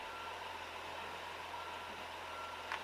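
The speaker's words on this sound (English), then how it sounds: "Put the car in reverse, go a couple feet, and stop." A Honda Accord reverses with steady repeating reversing beeps, faint and continuous over a low engine hum, with no talking.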